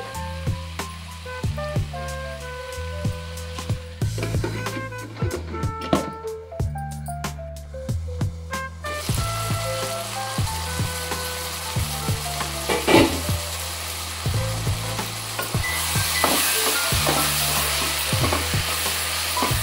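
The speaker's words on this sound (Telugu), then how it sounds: "మీడియం ఫ్లేమ్లో మనము మూత పెట్టి మగ్గించుకోవాలి." Chopped tomatoes cook in a covered pan on a medium flame, a soft, continuous sizzle and bubbling beneath steady background music, with no talking.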